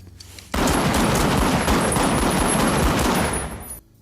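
A sudden, loud burst of rapid gunfire roars for about three seconds without a break, then cuts off into quieter background.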